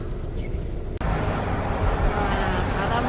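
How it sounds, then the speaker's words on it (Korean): Strong gale-force wind blusters into the microphone outdoors on a cold day, a loud steady roar that suddenly jumps even louder and keeps rushing, with faint talking mixed in. "어우 바람 소리 봐 미쳤다."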